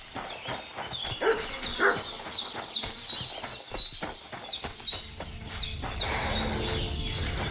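Dog in the medieval role-playing game Kingdom Come: Deliverance II, giving repeated short yelps and barks amid game ambience with chirping birds and hoofbeats, fairly close and moderately loud throughout.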